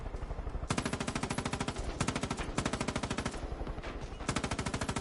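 Heavy gunner enemies in Far Cry 5 unleash sustained machine gun fire, rapid loud bursts with brief pauses between strings of shots, close and dominant.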